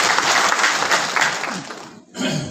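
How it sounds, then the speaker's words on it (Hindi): A live seminar audience claps loudly for about two seconds during an Ayurveda product training session, the applause breaking off briefly before another burst of clapping and crowd noise. "एक बार जोरदार ताली बजा दीजिए इनके लिए।"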